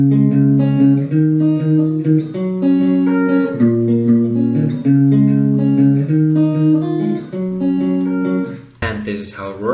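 A clean electric guitar in standard tuning plays a song intro, with no distortion. Steady arpeggiated chords ring continuously, and a brief noisy burst sounds near the end.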